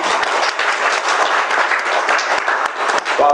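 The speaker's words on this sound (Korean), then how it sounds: "박수를 하나님께 올립니다" A church congregation claps in steady, dense applause during a Christmas Day Sunday service, loud and close throughout, with a voice briefly audible underneath.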